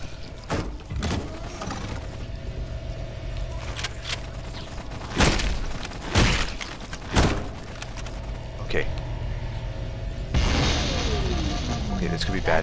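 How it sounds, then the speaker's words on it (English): An overloading pulse generator blows up in Halo: Combat Evolved: a few sharp, loud blasts ring out over a steady low hum, then a bigger booming explosion with a rushing tail near the end. "That did it. The pulse generator overloaded."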